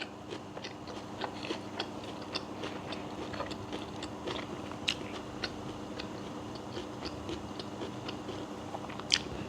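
Raw ginger being bitten and chewed close up, giving repeated small crunchy clicks and wet mastication sounds at a steady eating rhythm with no talking.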